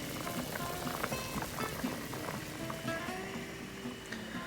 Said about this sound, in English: Our pot has come to the boil.